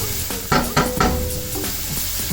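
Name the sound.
garlic and onion sizzling in a pan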